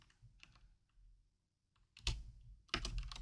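Typing on a computer keyboard for statistics software entry: a few soft, sparse keystrokes, then a pause and two louder bursts of quick clattering keypresses, close and with no talk.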